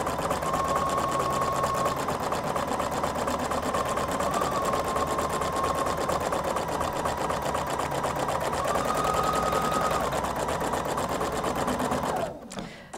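A Husqvarna Viking Designer Brilliance 80 embroidery machine runs a placement stitch, a steady rapid needle hum with a whining motor tone, close and continuous for about twelve seconds before stopping abruptly.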